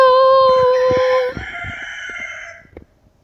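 A rooster crows loudly and close by on a small farm, one long harmonic cock-a-doodle-doo that falls away into a quieter trailing call over about three seconds, with no other sounds.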